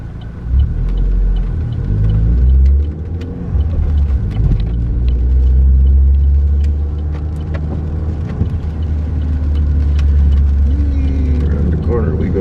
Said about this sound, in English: Got traffic everywhere right now.